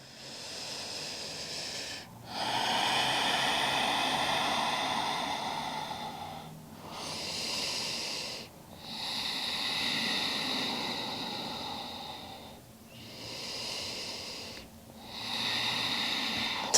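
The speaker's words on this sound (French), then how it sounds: "Reste 3 profondes respirations de plus ici." Slow, deep breaths during a yoga stretch, with long airy inhales and exhales rising and falling in a steady rhythm, about four cycles, close and clear with no talking.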